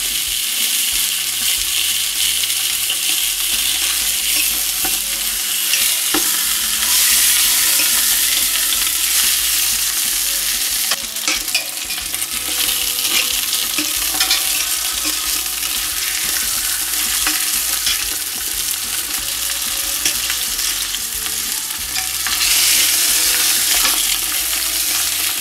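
Lamb pieces for a royal couscous fry and are stirred in a hot pan, a loud continuous sizzle with occasional scrapes and knocks of the utensil close by.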